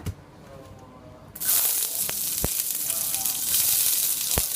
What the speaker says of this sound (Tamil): இப்போது அந்த சின்ன வெங்காயத்தை போட்டுக்கலாம்